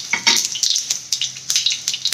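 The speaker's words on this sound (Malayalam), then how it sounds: "അപ്പം ഇതിലേക്ക് ഉണക്കമുളക് ചെറിയ പീസാക്കിയിട്ട് ഇടുക." Pieces of dried red chilli dropped into hot oil with popped mustard seeds, tempering for lemon rice: close, sharp crackling bursts that pop and spit in quick uneven clusters.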